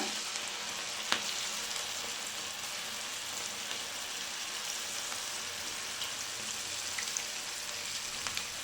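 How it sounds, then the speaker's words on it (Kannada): Cauliflower gobi pieces frying in hot oil give a steady, close, crackling sizzle with small pops throughout, no voices over it. "ಈಗ ಒಂದೊಂದೇ ಗೋಬಿಗಳು ಹಾಕ್ಕೊಳ್ಳಿ ಕಾದಿರೋ ಎಣ್ಣೆಗೆ."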